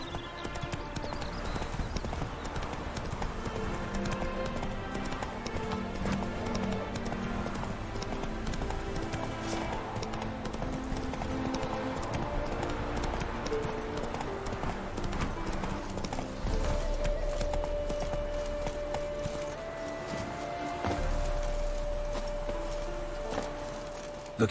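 Hooves of Roach, Geralt's horse in The Witcher 3, clip-clop in a steady galloping rhythm throughout, mixed with game music and ambience, loud and close.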